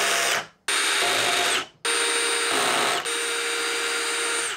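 A Milwaukee cordless drill in first gear with a high-output 8.0 amp-hour battery whines loudly in short bursts, stopping and restarting, then runs on steadily until its clutch bottoms out.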